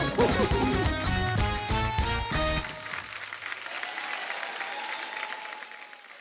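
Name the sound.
studio audience applause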